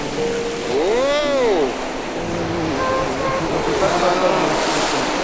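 Ocean surf off Malibu roars steadily as a broad, loud wash of waves, with a person's voice rising and falling in a melodic call over it.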